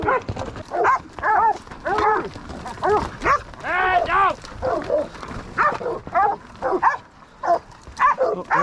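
A dog barks repeatedly in bursts during cattle roping of yearling mavericks, close and loud, mixed with shouting voices and livestock commotion throughout.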